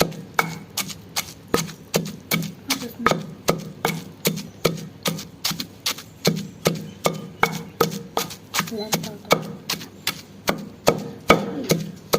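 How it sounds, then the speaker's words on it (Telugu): Okra pieces, garlic and curry leaves are pounded in a mortar with steady, evenly spaced thuds, roughly two per second, loud and close with no talking. "ఇప్పుడు తెల్లగడ్డలు కరివేపాకు బెండకాయ ముక్కలు ఏంచినటివి దీంట్లో వేసి దంచుకుంటున్నాను"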